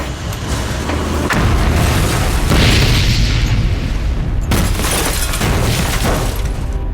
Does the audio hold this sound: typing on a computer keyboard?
no